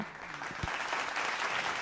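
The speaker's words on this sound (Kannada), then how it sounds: "ದಯವಿಟ್ಟು ಚಪ್ಪಾಳೆ ಕೊಡಿ" Studio audience applause on a Kannada music television show, a steady wash of many hands clapping at moderate loudness throughout with no speech over it.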